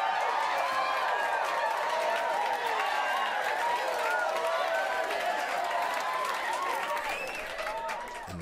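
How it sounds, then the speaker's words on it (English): A large crowd cheers and applauds continuously, a dense wash of clapping and whoops that stays loud and steady before easing slightly at the end. "And the crowd goes wild."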